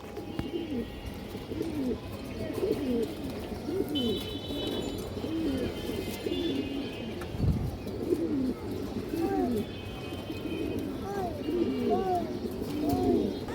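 Pigeons of high-flying and racing breeds coo repeatedly in a loft, several birds overlapping in soft rolling calls, close and steady, with faint chirps and background noise.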